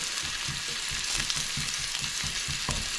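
Garlic and onions fry in a pan with a loud, steady sizzle that fills the whole clip, while a spoon or spatula stirs them with a regular rhythm of soft, low scrapes.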